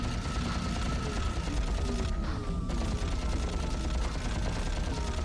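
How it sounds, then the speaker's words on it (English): Green homing missiles fired by a boss in a Ratchet and Clank game, a dense, continuous barrage of rapid blasts and whooshes, loud and unbroken apart from one brief dip in the middle. "he shoots these green missiles that fly around and just occasionally come at you"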